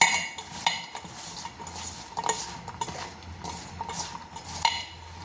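Spiced bitter gourd being kneaded with rice flour, curry leaves and cumin powder in a bowl, giving soft repeated squelching and mixing scrapes with a few light clinks of a utensil, close and steady throughout.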